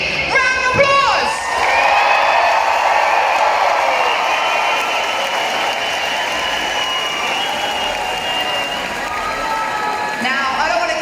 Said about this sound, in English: give yourselves a really big round of applause